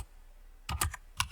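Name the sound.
typing on a computer keyboard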